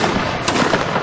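A musket firing during a line-infantry battle in a Napoleonic-era video game, a sharp crack and a few scattered pops against a busy background of distant shots, with no voices.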